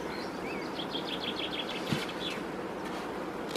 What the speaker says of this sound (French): Les abeilles sont là, on entend qu'elles pleurent.